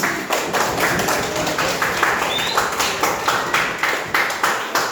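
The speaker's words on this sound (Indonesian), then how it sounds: "Oke, tepuk tangan kita semua." A group of students in a classroom clapping together in a quick, steady rhythm, each beat distinct and evenly spaced, filling the room for several seconds without talk.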